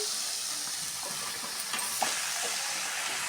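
Vegetables for a drumstick and brinjal gravy sauté in a pan with softened onion and tomato, making a constant sizzle broken by a few light scraping stirs and a clink midway.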